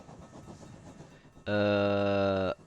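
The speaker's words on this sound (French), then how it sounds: "Il y a un train qui arrive." In a train simulation game, a passenger train approaches with soft rolling clatter, then sounds a loud, sustained horn blast that holds for about a second before cutting off abruptly.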